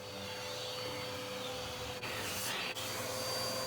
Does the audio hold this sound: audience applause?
no